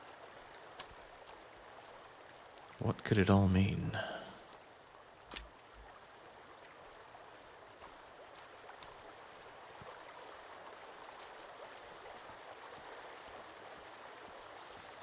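Flowing water in Sons of the Forest runs as a faint, steady background trickle, interrupted early by a short louder splash, and a voice speaks briefly over it.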